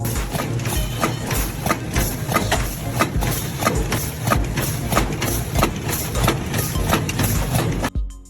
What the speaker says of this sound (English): An automated factory machine slides the toothpaste tubes into their boxes one by one within seconds.